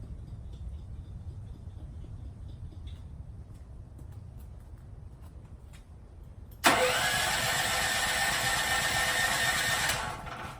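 A portable generator readied for a hurricane is pull-started and catches suddenly, then runs loudly and steadily for a few seconds before its roar drops away, after a quiet stretch of faint rustling.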